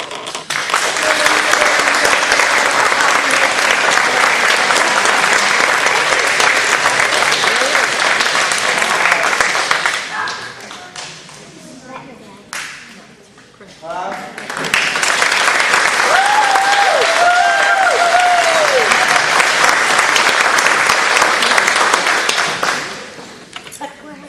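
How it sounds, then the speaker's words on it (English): Audience applause at a graduation ceremony, a long loud burst of clapping that fades around ten seconds, then swells again, with a few voices and faint whoops rising inside the second wave. "One last round of applause"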